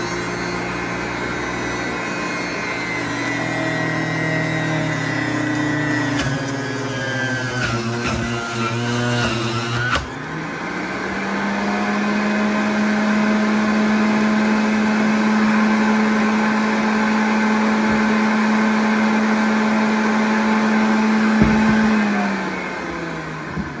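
A blender whirs loudly as it mixes cucumber slices and green pepper into a green juice, an uneven start followed by a sudden jump to a steady, strong motor drone lasting many seconds before it winds down.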